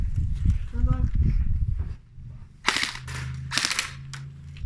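Airsoft pistol shots fired in a backyard family game, a few sharp snapping pops close by, with people talking loudly before and between the shots.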